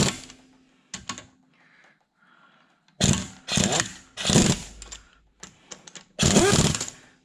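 Lug nuts being run down and seated on a 1987-1992 Toyota Corolla front wheel, heard as several loud, close bursts of ratcheting and whirring at irregular intervals with short quiet gaps between them.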